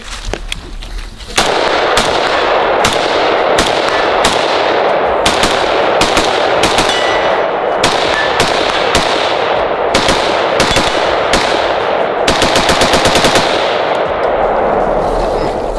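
Bren 2 5.56 short-stroke piston rifle firing outdoors, a loud rapid string of sharp shots at an even pace lasting over ten seconds, ending in a fast tight burst.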